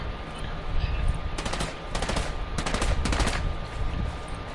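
Rapid automatic gunfire rattles in a shooter game, coming in several loud, dense bursts spaced across a few seconds, with faint voices in the background.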